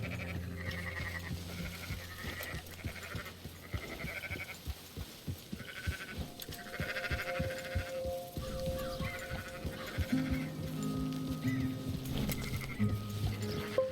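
Sheep bleat repeatedly in Red Dead Redemption 2, several overlapping calls of varied pitch against steady game ambience, fairly close and loud throughout.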